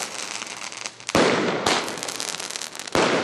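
A rapid series of loud XXL firecracker bangs and crackling bursts at New Year's, several big blasts standing out from continuous popping, close and intense.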